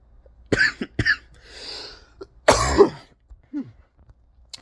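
A person coughs several times in separate harsh bursts, close up, with a strained breathy sound between them and no talking.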